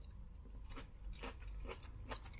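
Cooked salsify root is bitten and chewed close to the mouth, producing several short, crisp crunches spaced unevenly over a couple of seconds, quiet and without speech.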